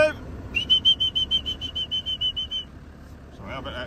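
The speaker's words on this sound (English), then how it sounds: "I bet that whistle's quite annoying for you lot watching, isn't it?" On a calf farm, a person whistles a rapid, steady train of about a dozen short, shrill pulses to move calves, close to the microphone, before a voice comes in at the end.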